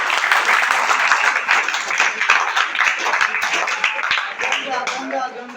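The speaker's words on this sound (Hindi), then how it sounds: "एक बार अपने लिए जोरदार ताली" Audience at a quiz contest claps loudly with distinct sharp hand claps over a continuous wash of applause, tapering off as a voice begins speaking near the end.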